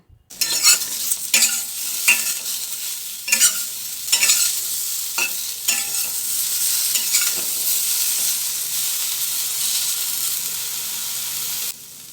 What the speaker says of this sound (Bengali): আলু আর শিমটা বেশ ভালো করে ভাজা হয়ে গেলে বেগুনটা দিয়ে দেবো